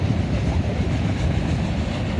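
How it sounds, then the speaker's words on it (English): A freight train with an Illinois Terminal heritage locomotive runs west on a Conrail line, close and loud, its steady rumble and wheel clatter filling the whole stretch without any break. "So that Illinois Terminal Heritage Unit is heading west on the Conrail line"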